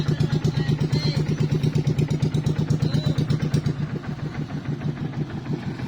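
A fishing boat's engine runs during a pre-departure check in Anda, Bohol, a close, loud, steady rhythmic chugging with mechanical clatter that eases slightly in level toward the end.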